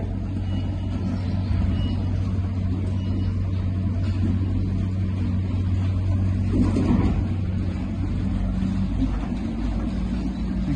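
A manure scraper machine's motor on a farm in Italy drones steadily and continuously, a low mechanical hum with a brief rustling bump partway through.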